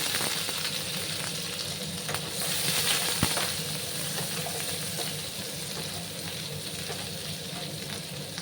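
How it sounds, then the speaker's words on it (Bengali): Chopped onions and black mustard seeds fry in hot oil, a dense steady sizzle with faint crackles and an occasional pop, close and continuous with no talk. "সর্ষেটা যখন ফুটফুট করে ফুটতে শুরু করলো তখন আমি এই যে পেঁয়াজ কুচি দিয়ে দিলাম"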